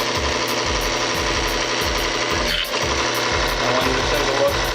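A lubricity test machine running under added pressure with Mobil SHC 634 synthetic gear oil, a loud continuous mechanical hum with a rapid rhythmic knocking pulse throughout.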